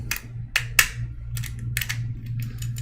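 The safety pin of a First Alert fire extinguisher is pushed back into place, giving a series of sharp plastic clicks and small rattling snaps over a low steady hum.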